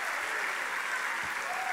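A crowd at a live music show applauds in a dense, steady wash of clapping that stays even and moderately distant, with faint voices mixed in.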